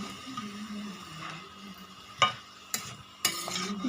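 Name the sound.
stirring and turning frying food in a pan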